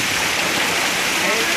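A hailstorm with rain in Korrapadu, Rajupalem mandal, makes a dense, continuous roar of hailstones and rain hitting surfaces, loud and unbroken throughout.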